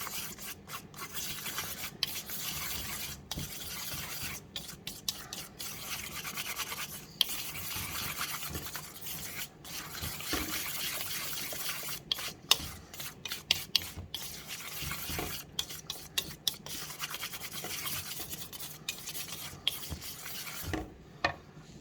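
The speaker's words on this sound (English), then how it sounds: "I'm gonna mix this all together." Saffron, flour and baking powder are stirred together in a bowl. Soft, repeated rubbing and scraping strokes run close and quiet, with a few sharper taps and no talk.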